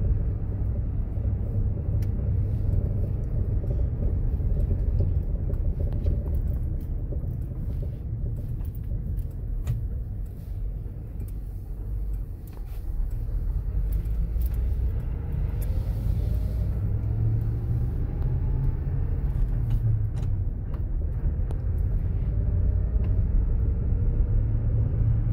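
A 1988 Ford F250 truck engine drones steadily in third gear, a loud continuous low rumble with a slight dip in the middle and no voices over it.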